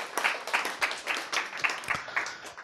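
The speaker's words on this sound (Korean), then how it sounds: "아, 박수" A small lecture audience claps in a short, sparse burst of distinct hand claps, roughly rhythmic and fairly close, with no talking over them.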